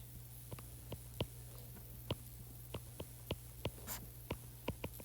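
A probability formula being written out, with sparse, sharp taps and scratches of a pen or stylus in an irregular rhythm over a quiet steady hum, close and faint.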